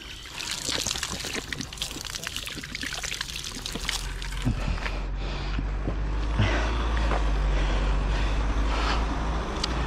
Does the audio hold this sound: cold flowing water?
yes